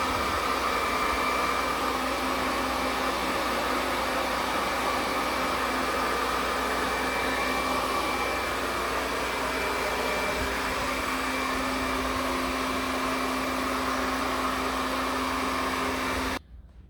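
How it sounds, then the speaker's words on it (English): A hair dryer drying curly hair, hovering over the scalp first, gives a steady, close, continuous blowing whir with a faint hum. It runs evenly throughout and cuts off abruptly just before the end. "What I'm going to do is hover over my hair first, so that I'm going to dry the scalp first"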